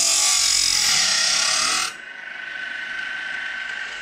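A Woodland Mills Grindlux 4000 sharpener grinds a sawmill blade tooth with a loud, bright grinding whine for about two seconds, then drops to a quieter motor hum.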